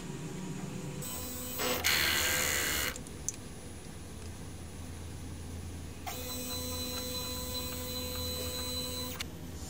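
DTF printer running a head cleaning cycle, with a steady mechanical hum throughout and a louder burst of whirring and spraying early on, then a tonal motor whine in the later part.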